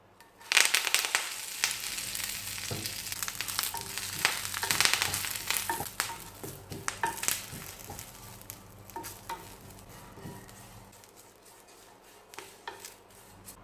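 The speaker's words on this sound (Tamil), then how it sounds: "கருவேப்பிலை வதக்க மட்டும் கொஞ்சமாக எண்ணெய் விட்டுக்கலாம். நெய் விட்டும் வதக்கிக்கலாம்." Curry leaves sautéing in ghee or oil in a pan for a curry-leaf chicken varuval, a steady close sizzle with scattered clinks and stirring scrapes, louder early and easing off toward the end.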